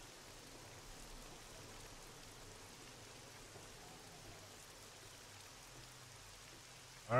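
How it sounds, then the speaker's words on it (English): Steady heavy rain falling on a house, a soft continuous hiss of drops with a faint low rumble underneath, fairly distant and even, ending with a sudden louder bump. "You guys should be able to hear the downpour at my house."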